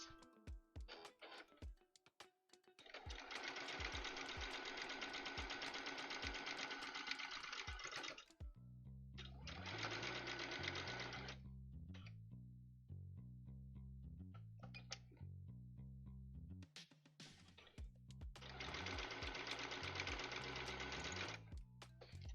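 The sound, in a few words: serger sewing machine stitching pannier fabric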